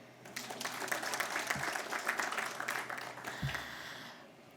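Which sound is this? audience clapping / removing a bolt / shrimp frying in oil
audience clapping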